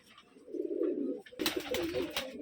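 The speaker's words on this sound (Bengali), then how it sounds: "মাশাআল্লাহ কবুতর দুইটা।" A pair of pet pigeons coo softly nearby, low throaty calls in two short bursts, with faint rustling and no talk.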